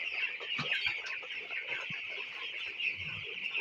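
Broiler chickens from a commercial hatchery batch clucking steadily inside a poultry shed, a dense flock chorus with scattered individual clucks over a constant background hum.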